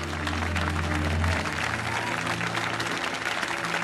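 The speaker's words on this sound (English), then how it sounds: "Yeah, you better clap for your daughter." Applause from a wedding crowd in the 2006 film Madea's Family Reunion, steady and fairly loud from start to end, with a low musical drone underneath during the first second and a half.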